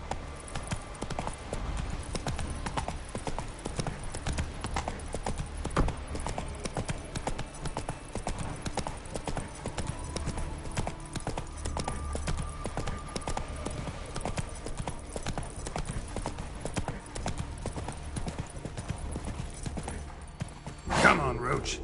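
In The Witcher 3, the horse Roach gallops continuously, with rapid rhythmic hoofbeats pounding throughout over game ambience, and a brief louder burst near the end.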